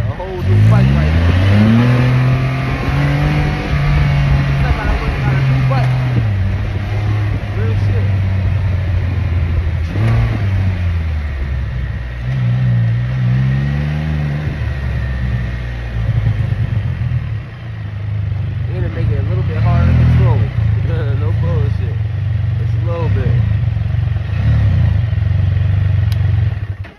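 A Can-Am Spyder three-wheel motorcycle fitted with a Pedal Commander revs and pulls away loudly, engine pitch rising and falling through gear changes for the whole stretch, with a rider talking over it at times.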